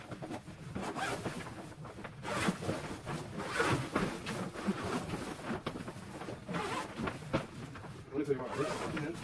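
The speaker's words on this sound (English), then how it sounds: "Looks like a window, so we're going to zip it." A large heavy-duty zipper is pulled along the thick fabric of a Growsun 4x8 horticulture grow tent in a long, steady rasping run, close by, with the zip continuing for several seconds.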